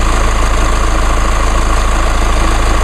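A 2.8 liter four-cylinder Duramax turbo diesel in a Chevrolet Colorado idles steadily, a loud, continuous low rumble with a faint knocking clatter and no voices.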